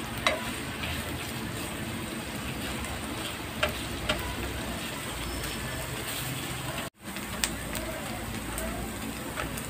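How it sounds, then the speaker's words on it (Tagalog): Chicken pieces fry in hot oil until golden brown, giving a steady, close crackling sizzle with occasional sharp pops and a brief dropout partway through. "iprito lang natin siya hanggang mag-golden brown"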